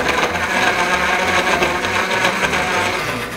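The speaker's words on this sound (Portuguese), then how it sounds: "Liquidificador na mão." A blender whirs loudly and steadily, its motor grinding through thick açaí with a slightly pulsing rhythm.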